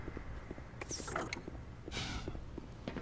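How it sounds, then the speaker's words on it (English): A door mechanism opening in Black Mesa, quiet mechanical clanks and creaks with rhythmic ticking and two brighter hissing bursts, fairly faint and without talk. "Oh, the door's open now."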